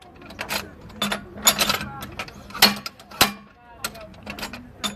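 A torque wrench clicks and ratchets in irregular metallic bursts as a tightened bolt is worked loose at a trade show, close and sharp, with people talking in the background.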